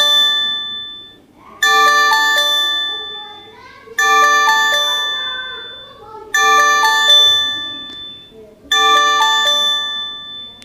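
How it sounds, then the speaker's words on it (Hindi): A demo earthquake alert ringtone plays loudly on a mobile phone, with four bright chiming bursts of layered electronic tones repeating at an even pace, each fading slightly before the next. "इस डेमो की जो रिंगटोन है बिल्कुल इसी तरह की रिंगटोन आपको बिल्कुल जो अलर्ट है"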